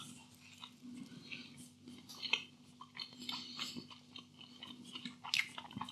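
Close, soft chewing of a stonebaked feta and caramelised red onion pizza, with irregular crunchy bites and mouth sounds over a low steady hum, no talking.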